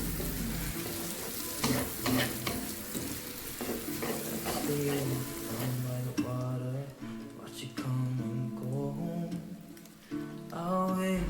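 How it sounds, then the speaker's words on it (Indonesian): Onions and shallots sautéing in an oil-slicked pan while tumis pakis is made: continuous close sizzling broken by repeated spatula scrapes and clicks, with tonal background sounds weaving through much of the stretch. "ini bawang-bawangnya bakalan gue masukin dan dia bakalan gue tumis sampai layu"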